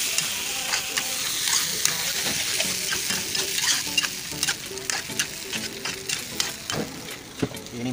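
Chilies frying in a pan give a steady, close sizzle with crackles and the scrape of stirring, even and unbroken with no voices over it.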